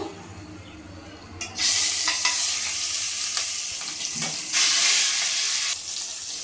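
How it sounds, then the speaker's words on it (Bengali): Rohu fish pieces frying in hot mustard oil in a kadai, a loud close sizzle that flares up sharply as the fish goes in, with crackling spits and a few soft clinks, no talking. "এবার আমি মাছগুলো ভেজে নেব।"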